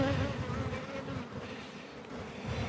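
Honey bees in an open hive during an inspection, a dense, steady, faint buzzing swarm that fills the whole moment without any talk.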